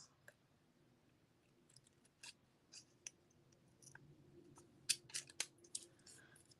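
Scissors snip and trim paper during a ladybug craft session, with a series of short, crisp cuts that quicken toward the end, close by and fairly quiet.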